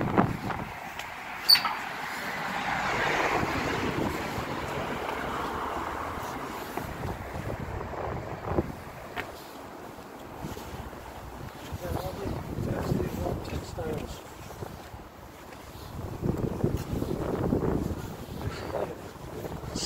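Wind buffets an outdoor microphone with a steady low rumble and gusts throughout, under scattered voices.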